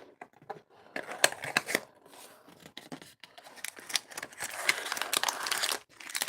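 Crinkling and tearing of paper and plastic packaging as a gift parcel is opened, close by, in irregular bursts with brief pauses, then busier rustling toward the end.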